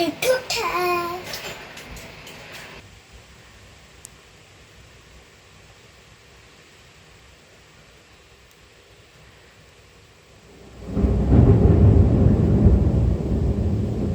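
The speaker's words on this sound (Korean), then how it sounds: "이게 천둥이야 천둥." A deep, broad rumble of thunder during rain rolls in after a long quiet stretch, loud and sustained, with a voice heard briefly at the start.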